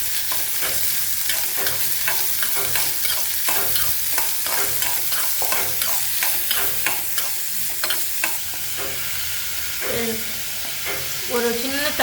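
Sliced onions sizzle in a hot pan for tomato rice, with steady frying hiss and repeated scraping strokes of a spoon stirring them, close and continuous throughout.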